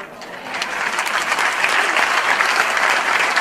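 Audience at a magic show bursts into sustained applause, a dense wash of clapping that swells slightly and holds steady, fairly close and loud.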